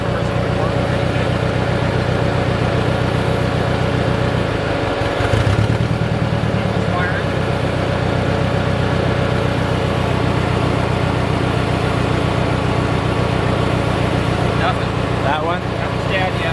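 An old Mercedes-Benz engine, just revived and running without an exhaust, idles steadily with a loud, even mechanical thrum close by, a brief clunk partway through, and voices in the background.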